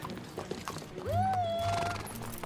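A horse in a Three Musketeers film gives one clear whinny that rises and then holds for about a second, heard over murmuring background sound and low rumbling.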